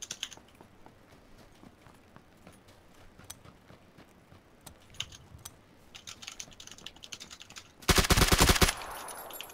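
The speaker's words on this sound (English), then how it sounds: "Their friend's trying to shoot you." Enemy gunfire in PUBG: a loud, rapid burst of automatic shots near the end, preceded by scattered soft clicks and taps over a quiet background.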